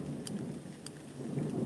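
Steady rain falls in a garden setting, a continuous broadband hiss with no speech, punctuated by two brief brighter splashes or drips near the start and middle.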